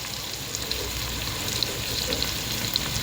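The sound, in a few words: whole spices sautéing in hot oil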